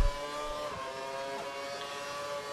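A 2012 Formula One car's engine in the F1 2012 racing game sits at the rev limiter on the India circuit, a steady high-pitched whine held flat and fairly quiet.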